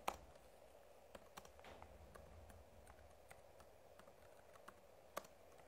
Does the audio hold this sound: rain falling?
no